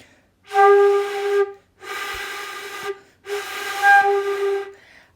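Three breathy, airy low notes on a wind instrument, each about a second long and separated by short pauses, with a hissy, unfocused tone.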